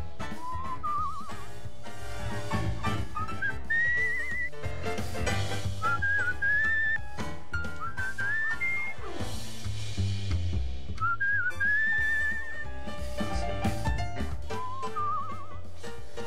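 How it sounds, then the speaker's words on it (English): A character in the video game Where the Water Tastes Like Wine whistles a wavering melody in short phrases, clear and upfront over a steady musical backing. "Oh wait, I have to try the whistle."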